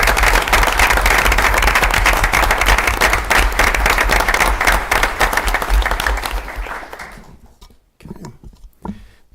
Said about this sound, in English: please join me in one last round of applause for our retirees